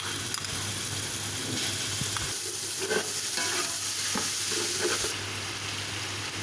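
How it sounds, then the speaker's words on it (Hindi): Ginger garlic paste fries and spatters in hot oil with cumin while being stirred for biryani, a continuous close sizzle with light scraping and clinking from the pan and utensil. "अदरक लहसुन का पेस्ट डालूँगी अब मैं इसमें"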